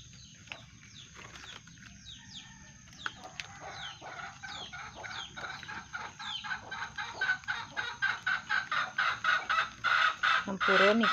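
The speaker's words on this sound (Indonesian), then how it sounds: "Campur niki ayamnya pengen bertelur niki nih. Suaranya mengganggu banget nanti." A hen wanting to lay an egg clucks repeatedly, starting sparse and building into a loud, rapid, rhythmic run of insistent clucks toward the end, with some talk in the background.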